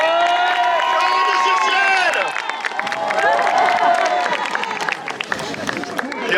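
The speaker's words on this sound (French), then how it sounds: "Applaudissez notre champion!" A crowd at a medieval tournament in Saint-Renan applauds and cheers a champion, with scattered clapping and loud lively chatter running throughout and a voice calling out over the noise.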